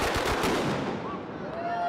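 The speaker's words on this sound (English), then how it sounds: "So that's fireworks." Fireworks going off in Barcelona, a dense, continuous crackling barrage of rapid pops and bursts that sounds like gunfire, loud throughout with no pause.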